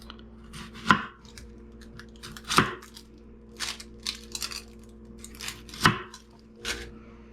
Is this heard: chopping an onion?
yes